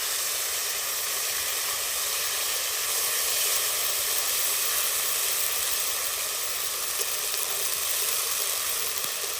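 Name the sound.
cumin and ginger paste sizzling in hot oil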